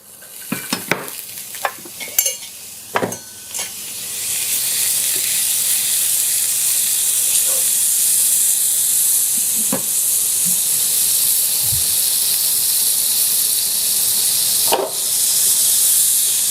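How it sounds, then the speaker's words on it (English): Butter, about two tablespoons, sizzles in a pan over minimal heat before eggs are sautéed, a loud steady hiss after a few clinks and knocks of the pan at the start, with occasional tapping over the frying and no voices. "I am going to use some butter to saute the eggs"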